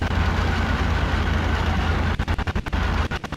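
A damaged Hawker Hurricane aircraft engine in a flight simulator game drones loudly and steadily, then sputters and cuts out in a rapid series of stutters toward the end.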